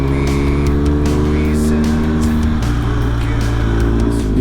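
Motorcycle pulling steadily in fourth gear up the Valico dello Spino mountain pass in Tuscany, a loud, continuous engine drone with wind rush and slight pitch changes as the road winds.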